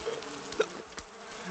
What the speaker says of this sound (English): I fucking heard the bees,